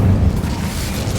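An Incendio fire spell cast in Hogwarts Legacy, a loud close whooshing burst of flame with a heavy low rumble that holds steady for about a second, no talk.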